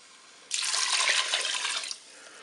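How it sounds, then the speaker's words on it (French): Water poured into a Cookeo multicooker over rice, a loud steady rushing pour that starts abruptly and lasts about a second and a half before stopping, with no talking. "Je vais ajouter l'eau."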